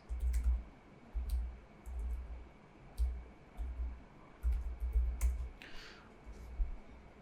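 A computer keyboard is tapped in short bursts as a workspace name is entered, giving soft, close clicks in irregular clusters across several seconds, with no talking.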